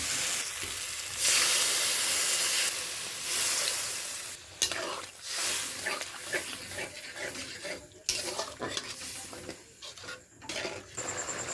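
Ghugni is stirred in a cooking pan with a sizzling, scraping rhythm, bursts of frying hiss and clattering spoon strokes on the pan, close and fairly loud, with a watery splash partway through.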